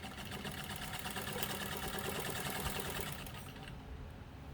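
A Singer 15 sewing machine with a leather needle stitches through leather, a steady rapid mechanical clatter running close and even before it slows and stops near the end.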